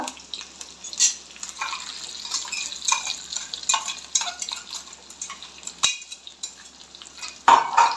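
Coriander seeds and curry leaves fry in hot oil for vada pav, a close crackling sizzle with stirring scrapes and clinks of utensils against the pan.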